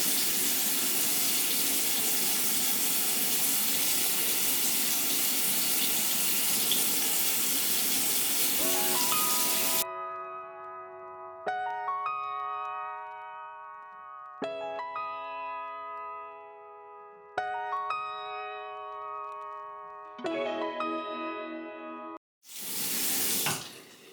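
Tap water runs steadily for about ten seconds while a disposable razor is wetted, then gives way to several short bursts with brief gaps, ending in a loud final gush; close and alone, with no voices.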